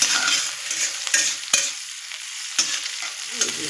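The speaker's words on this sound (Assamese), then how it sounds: "পিঁয়াজ আৰু জলকীয়া ফালাখিনি আৰু লগত গোটা জিৰা দি দিছোঁ। ধুনীয়াকৈ ভাজি গোল্ডেন কালাৰ কৰি ল'ম।" Onion, green chilli and whole cumin seeds fry in a pan, a soft continuous sizzle broken by a few sharp scraping and stirring clicks, close and alone with no voices.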